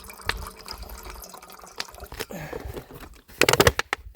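Fresh lake water from Horse Lake in the Boundary Waters wilderness is poured into an already hot camp pan, giving scattered splashes and trickles, then a brief burst of sizzling and bubbling near the end, heard close with no talk.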